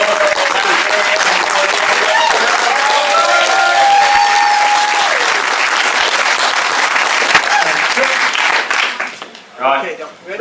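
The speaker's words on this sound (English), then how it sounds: "let's start the applause this side of the" Loud, sustained applause from a venue audience at a Leeds talk evening, thick continuous clapping with some whoops and voices, near and full, fading out toward the end as a speaker begins.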